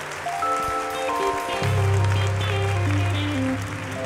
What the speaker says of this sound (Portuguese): E aplauda agora Jesus Cristo, o vencedor.